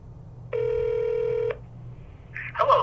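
A telephone plays one long steady dialing tone for about a second, then after a short pause a brief ringing burst begins, clear and close over a low background hum.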